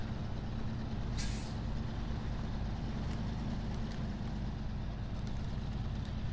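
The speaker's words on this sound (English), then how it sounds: "Can you hear that though, with the revs dipping down again?" In SnowRunner, a Fleetstar truck engine drones steadily on Lake Kovd snow, its revs dipping in a continuous low rumble, with a short sharp hiss of air near the start and faint ticks later.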